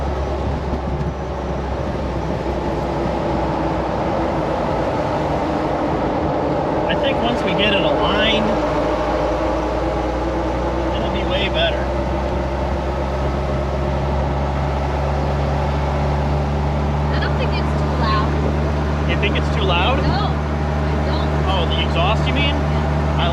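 Steady road noise from a truck driving at speed, a constant low rumble and tire hum, with people talking now and then over it.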